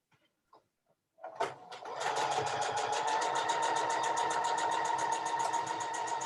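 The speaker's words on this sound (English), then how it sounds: "I'm going to stitch my 1/4 inch seam, my scant 1/4 inch" A sewing machine stitches a scant quarter-inch quilting seam: a few soft clicks, then the motor starts up into a steady, fast mechanical chatter of the needle that runs on evenly and close by, with no voices.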